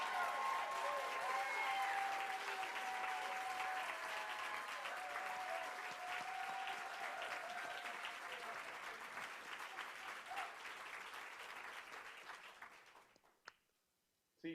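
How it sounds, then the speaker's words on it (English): A conference audience gives sustained applause for Joanne Carter, a broad, even wash of many hands clapping with some voices mixed in, gradually fading out near the end. "See, Joanne, that's applause heard around the world."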